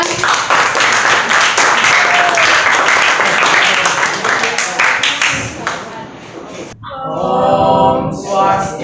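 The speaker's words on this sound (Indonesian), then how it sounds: "Terima kasih, beri tepuk tangan" Classroom audience applauding after a group presentation, steady dense clapping for about six seconds that stops abruptly, followed by a voice speaking over a quieter room.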